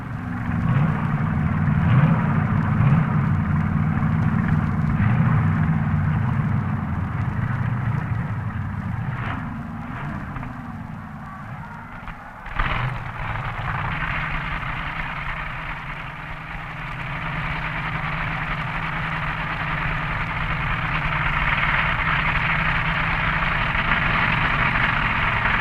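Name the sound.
Chevy-powered B dragster engine at drag race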